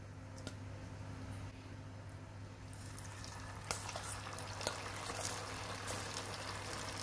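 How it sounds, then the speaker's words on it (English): Cauliflower florets for gobhi Manchurian frying in hot oil, a steady soft sizzle and bubbling with a few sharper pops near the end, faint and continuous with no talking. "Same way I will fry rest of the florets."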